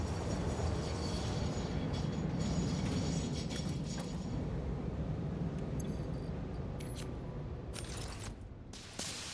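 A train in the video game Satisfactory runs with a steady mechanical rumble and clatter. The sound holds close and even, then thins slightly toward the end as brighter hisses cut in.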